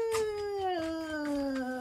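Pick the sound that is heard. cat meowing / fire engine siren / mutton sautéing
cat meowing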